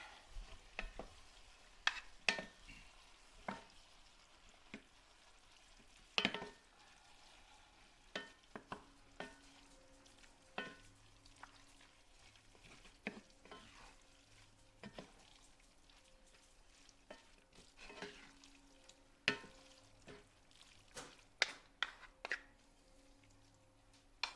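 Cowboy casserole ingredients stirred in a pan: sparse scraping, clattering strokes of a utensil at close range over a faint sizzle, with no speech.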